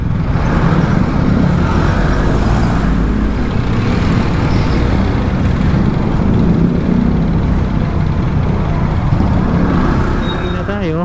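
Road traffic in Makati forms a dense, steady roar of cars, trucks and buses. The engine and tire noise stays loud and close without a break.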